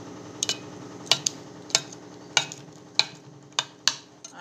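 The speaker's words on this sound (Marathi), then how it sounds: "आणि एकदा व्यवस्थित हलवून घ्यायचं" A spoon stirs rava dhokla batter with added salt in a bowl, giving sharp, irregular clinks against the side roughly every half second, close and fairly quiet, with no talking.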